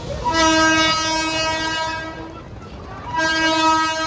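A train horn sounds loud and close in two long blasts with a short pause between, over the rumble of rail traffic at a railway station.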